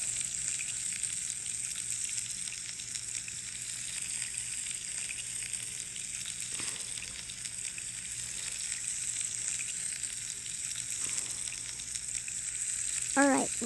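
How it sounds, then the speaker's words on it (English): Fish pieces fry in a pan in the Toca Kitchen 2 cooking game, a soft, steady sizzle running throughout at low level, with a short bubbling burst near the end. "These fish pieces, of course, will be fried."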